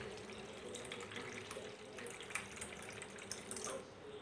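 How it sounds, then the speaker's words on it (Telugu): Cool water poured into strained pudina (mint) juice in a kitchen, a steady close splashing trickle running for a few seconds with no voices. "ఇందులో కొంచెం కూల్ వాటర్ పోస్తున్నా"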